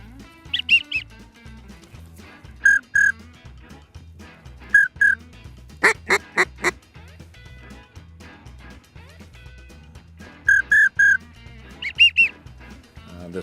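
Bluebill and ringneck ducks calling in short bursts of quacks and whistled notes, repeated every few seconds against quiet low rumble, fairly close and clear.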